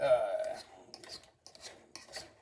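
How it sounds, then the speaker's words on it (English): Potatoes being mashed in a pot, with soft rasping rubs and squelchy scrapes in short irregular bursts separated by brief pauses, close and quiet. "these potatoes getting nice and mashed"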